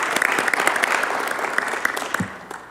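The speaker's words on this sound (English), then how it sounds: "Give yourselves a round of applause." A meeting crowd of volunteers claps for themselves, a brief burst of dense applause with a few sharper individual claps standing out before it fades.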